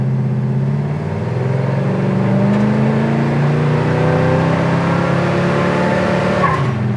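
A 1970 Chevelle V8 pulling hard through the gears on a drive, engine note climbing steadily toward about 4,000 RPM from inside the car, loud and continuous with no talk over it.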